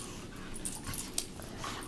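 A pet dog whimpers and yips softly indoors in a few short, faint whines over a steady background hiss, with no one talking.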